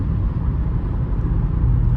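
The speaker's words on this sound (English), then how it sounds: "I don't know if y'all can hear the car right now, like the little rumble." Twin-turbo V8 of an Audi RS7 Performance rumbles low and steady while cruising on a cold day, a continuous engine and road drone from inside the car with no talk.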